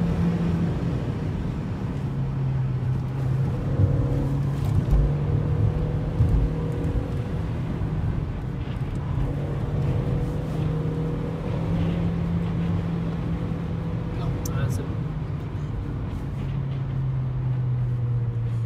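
A VW Polo 5 with a 1.4-litre 85 hp engine cruises along a road, its steady low engine drone and road rumble holding constant and loud throughout, with shifting tonal hums as revs change.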